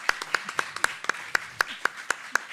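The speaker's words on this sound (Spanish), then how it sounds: "yo creo que eso merece un doble aplauso" Steady, evenly spaced clapping from an audience at a literature talk at Libro Fórum Sevilla 2022 rings out in a brisk regular beat, sharp and fairly close, with no other sounds around it.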